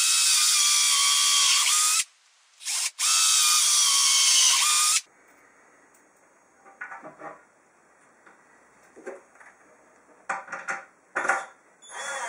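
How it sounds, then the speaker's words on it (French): A power drill drives screws down through the top of pilot-drilled, countersunk holes while a wooden table saw cabinet is assembled: two loud whining bursts separated by a brief stop, then quiet clicks and handling knocks of the workpiece. "en vissant par le dessus, après avoir percé un avant-trou chanfreiné"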